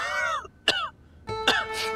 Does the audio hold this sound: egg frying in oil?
no